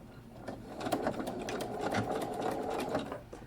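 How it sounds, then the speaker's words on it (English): A sewing machine stitches steadily across the webbing of a homemade durable, reusable tote shopping bag, a continuous close mechanical whir with rapid needle clatter and no talk. "We're going to stitch all the way across the webbing."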